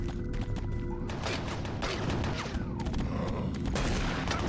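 A minigun in Doom 3 fires in loud, rapid bursts of close gunfire with mechanical clatter, a dense stream of shots broken by short pauses.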